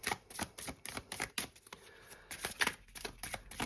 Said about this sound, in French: Je vais mettre quelques cartes supplémentaires.